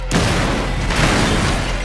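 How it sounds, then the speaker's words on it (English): Big explosions from a Watch Dogs game trailer hit with a loud, sudden boom, then a heavy rolling blast and a second swell of rumbling detonation. "Big explosions, honey."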